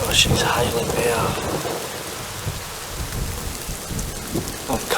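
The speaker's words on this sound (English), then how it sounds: "Oh, she's hailing now." Steady hard patter of hail pelting down all around in alpine snow gum country, a dense broadband hiss with scattered sharper impacts, continuous throughout.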